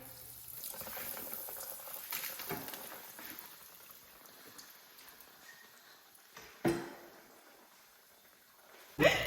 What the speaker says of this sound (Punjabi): ਆਪਾਂ ਆਇਲ ਗਰਮ ਹੋ ਰਿਹਾ, ਇਹ ਤੋਂ ਬਾਅਦ ਆਪਾਂ ਇਹਨੂੰ ਸ਼ੈਲੋ ਫਰਾਈ ਕਰ ਲੈਣਾ